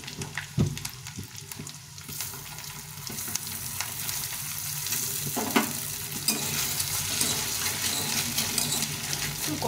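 Flattened rice balls with curry leaves fry in hot oil, giving a steady close sizzle with scattered clinks and stirring scrapes over about ten seconds, the crackle growing a little louder toward the end.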